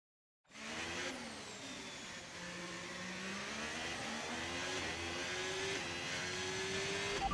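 Simulated F1 race car engine from the F1 25 video game, a steady high-revving whine rising and shifting through gears, continuous and fairly loud throughout after a brief silent start, with no talking.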